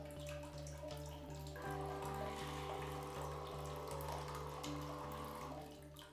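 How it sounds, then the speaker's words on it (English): Water flows steadily through the nozzle of a BB-2000 bidet seat during its self-cleaning cycle, a soft, continuous hiss and trickle with a faint pump hum underneath. "Water flows automatically to the nozzle and moves for about 20 seconds."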